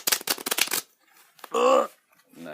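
A deck of playing cards riffle-shuffled up close, a quick burst of rapid flutters followed by a brief bridge-and-cascade rustle, loud and near in a quiet room.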